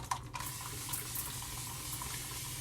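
A bathroom tap runs steadily for wetting the face before a shave, a continuous close hiss of flowing water with a small clunk near the start.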